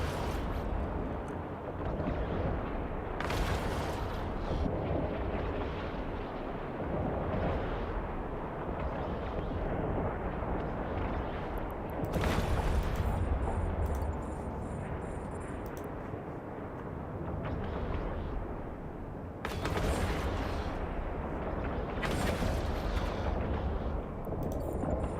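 Ship weapons firing at targets in the space game EVE Online, a steady roar of repeated blasts with sharper bursts recurring every few seconds, loud and continuous with no talk.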